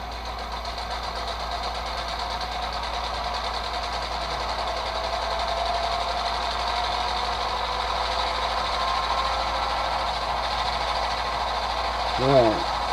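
Engine revving from an HO model locomotive sound decoder played through an iPhone speaker, a steady buzzy diesel drone that builds in loudness, with a short rising beep-like burst near the end.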